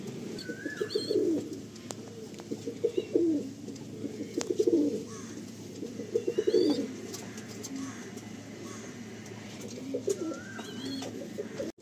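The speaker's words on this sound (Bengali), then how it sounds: "খুব ভালো ঘরের পায়রা, ভালো বাড়ির পায়রা" Pigeons coo in soft repeated bursts, several birds close by, with light chirps and rustling between the calls.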